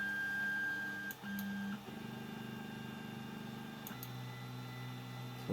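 An Ender 3 3D printer working through its first print, its stepper motors whining in steady sustained tones that shift pitch as the moves change, fairly quiet and close with no voices.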